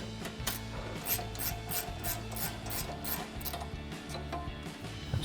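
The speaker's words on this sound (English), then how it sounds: "I'll take my 13 millimeter ratcheting wrench here," A 13 millimeter ratcheting wrench backs out brake caliper bolts on a 1999-2004 Mustang, giving a quick steady run of light clicks over a low background drone.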